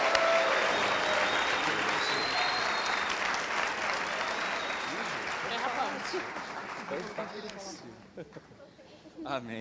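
Sustained applause from a church audience after a panel session, steady and dense, slowly thinning toward the end as a voice begins speaking over it.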